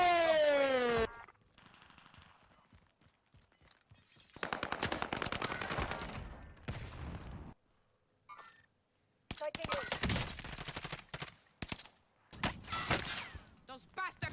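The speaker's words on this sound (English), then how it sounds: "Those bastards are shooting at me." Rapid gunfire from the video game Warzone with MP40 and StG 44 weapons, heard as bursts of loud automatic shots broken by short gaps, with a brief ringing tone near the start.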